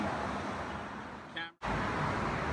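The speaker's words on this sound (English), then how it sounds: "Traffic is coming." Steady roar of road traffic passing nearby, a vehicle rushing by with a brief drop in noise before the rumble resumes.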